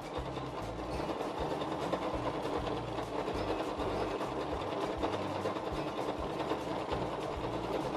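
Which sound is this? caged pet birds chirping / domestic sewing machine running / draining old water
domestic sewing machine running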